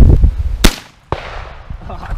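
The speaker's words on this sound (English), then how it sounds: "I'm just kind of offhand shooting here." Steyr 88/90 rifle in 8x50R fired once at an outdoor range: a single sharp, loud report with a short echo tail, followed shortly by a fainter metallic clack, with background noise around it.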